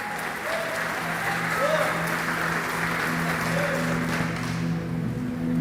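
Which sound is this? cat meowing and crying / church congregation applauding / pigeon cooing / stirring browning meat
church congregation applauding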